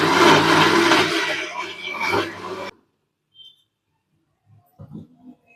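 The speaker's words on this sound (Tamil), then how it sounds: "இப்போ இது கூட வந்து தக்காளியும் போட்டு அரைச்சிக்கலாம்." A kitchen blender grinding tomatoes with ground masala whirs loudly and close for a few seconds, then cuts off abruptly, leaving near silence with a few faint knocks and small handling sounds.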